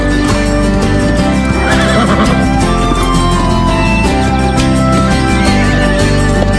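A cartoon horse whinnies loudly over clip-clopping hooves, set against a continuous musical score, with the neigh rising and falling in the middle and the hoofbeats running throughout.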